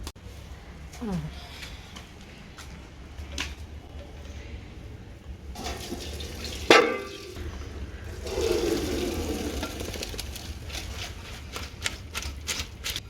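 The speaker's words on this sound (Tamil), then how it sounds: "ஜல்லடையில் போட்டு வடித்து வச்சிடணும்" Parboiled basmati rice water is drained through a sieve while making Chennai-style biryani over a clay stove: a close, rushing splash of poured water swells for several seconds, with a sharp clank midway and steady background hum throughout.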